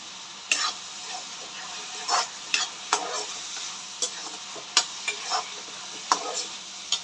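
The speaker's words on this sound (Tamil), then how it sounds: "இப்போ வந்துட்டு வெங்காயம் தக்காளி நல்லா வதங்கட்டும்" Onions and tomatoes sauté in a pan for a screwfish curry, with a steady soft sizzle under repeated sharp scrapes and clinks of a spoon stirring against the metal, close and moderately loud, no talking.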